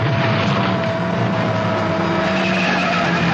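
Race car losing control and skidding on a railroad bend, a continuous loud rushing roar with a sustained squealing tone running throughout, no voices.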